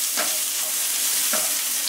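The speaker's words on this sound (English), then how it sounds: "we have our onions and garlic that we are going to saute" Onions and garlic sautéing in oil for fried rice over high heat: a loud, continuous sizzle with two brief stirring swishes, close and with no voice.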